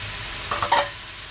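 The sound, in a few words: stirring chicken and vegetables with spices in a pan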